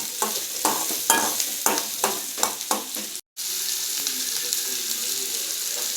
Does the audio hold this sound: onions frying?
yes